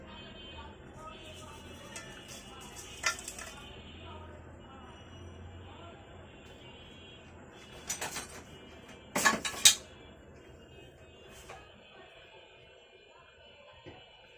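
A spoon clinks and scrapes against a pan while cinnamon, cardamom, cloves, fennel, cumin and bay leaf are stirred, sparse and fairly quiet, with a few sharper metallic taps toward the middle.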